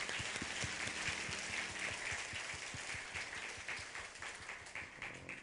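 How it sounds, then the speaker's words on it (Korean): A church congregation at a New Year's Eve service claps together, with distinct hand claps audible in the mix and the applause gradually thinning toward the end. "우리 하나님께 영광의 박수 올려드리겠습니다."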